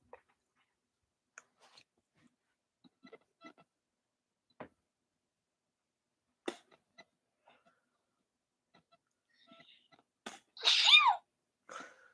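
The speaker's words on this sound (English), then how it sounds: "Cute sneeze." A single sharp sneeze bursts out near the end of an otherwise quiet stretch, close and loud, following scattered faint rustles and small mouth noises.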